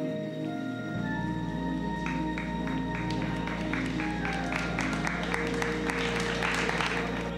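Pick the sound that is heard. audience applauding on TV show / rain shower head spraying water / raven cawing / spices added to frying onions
audience applauding on TV show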